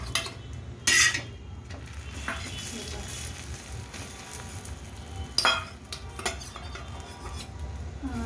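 Pav bread roasting on a hot griddle, a low sizzle punctuated by two loud metallic clanks of a spatula or utensil against the pan and smaller scraping sounds, close by.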